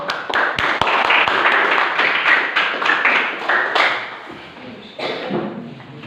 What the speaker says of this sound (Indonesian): mari kita beri tepuk tangan bagi Maria